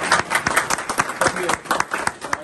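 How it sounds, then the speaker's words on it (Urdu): A crowd claps at a political gathering in a party office, where a Christian community delegation is visiting. The claps are quick, irregular and close, and cheering voices run through them. "تالی تو بجا دیں آپ کے"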